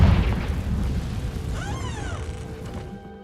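A Confringo blasting spell detonates in Hogwarts Legacy, a loud booming burst with a rumbling tail that fades out, followed by a brief rising whistle-like tone.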